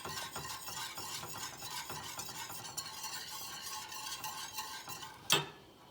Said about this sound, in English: with a whisk, you're just gonna cook this until it boils